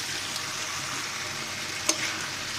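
Potatoes and eggplant fry in a spiced pan for a vegetarian eggplant dish, stirred with a steady, close sizzle throughout and a single sharp clink near the end.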